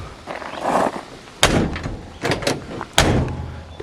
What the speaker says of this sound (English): Yeah, she's a slammer. That door does not work well.